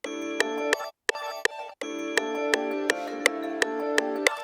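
Ambient electronic beat with layered harmonic synth tones and sharp percussive hits, the sound cut out abruptly in brief volume chops near the end of a bar before resuming; no voices.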